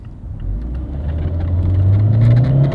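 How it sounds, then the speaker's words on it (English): A 2017 Fiat 124 Spider's four-cylinder turbo engine drones and rises steadily in pitch as it accelerates, loud and close with a low rumble and whir, and no talk. "Let me know what you think of the engine sound down below."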